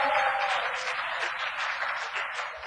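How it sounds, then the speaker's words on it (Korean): A church congregation gives a round of applause during a sermon, a steady wash of clapping that stays fairly even and moderately loud for the whole stretch. "박수 한번 주세요."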